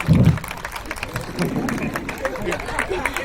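An audience at a live yoga program gives practitioners a burst of clapping, a short loud round of applause fading into crowd noise while a host keeps talking.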